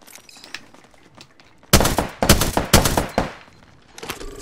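Gunfire in the Apex Legends video game: after a quiet lead-in, loud rapid bursts of automatic shots ring out close by, with a few short pauses between volleys and a scattered tail of shots at the end.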